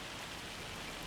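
Rain falls in Farming Simulator 25 on PS5 as a brief, continuous wash of hissing drops at an even level, with no speech.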